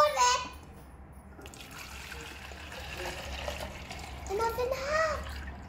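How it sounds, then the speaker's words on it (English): Water poured into a bottle during a density experiment: a light, continuous trickle under speech, with a voice also heard. "Now let's pour the water."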